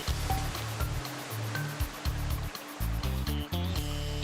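River rapids rushing, a dense continuous roar of water with low rumbling surges and intermittent tonal thuds, loud and steady throughout, no speech.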